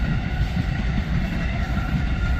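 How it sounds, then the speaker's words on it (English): An Amtrak passenger train rumbling past nearby, a continuous heavy roar of wheels and rail noise without a break. "you can see an Amtrak train passing by here as we go"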